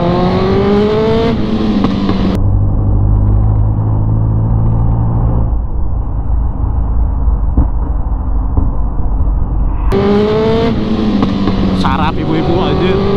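A ZX 636 sport motorcycle accelerates hard on a street ride, its engine rising sharply through the gears. There is a lull with low rumbling before it revs loudly again, and a rider talks over the sound.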